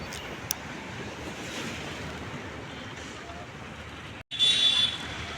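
Sea waves rolling onto Mandarmani beach, a steady broad wash of surf mixed with wind buffeting the microphone, broken by a brief dropout near the end.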